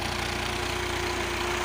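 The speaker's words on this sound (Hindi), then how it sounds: "उसने इस तरह से इसको चलाया है कि ट्रैक्टर बाहर आ जाए" An old Massey Ferguson 240 tractor, 1984 model, pulling itself out of mud: a steady, loud diesel engine drone with a constant low throb, close by and unbroken, with no voices.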